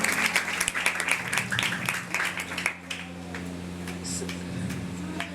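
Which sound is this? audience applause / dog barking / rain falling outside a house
audience applause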